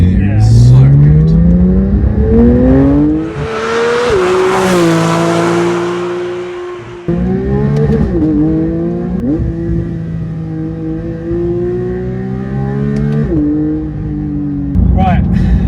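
Porsche 992 GT3 fitted with a Milltek exhaust, heard from inside the cabin as the flat-six engine climbs through repeated loud revs and gear changes, rising and dropping in pitch, with talking over it.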